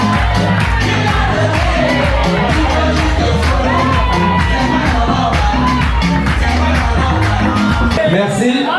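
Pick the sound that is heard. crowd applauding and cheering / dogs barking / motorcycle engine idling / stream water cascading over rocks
crowd applauding and cheering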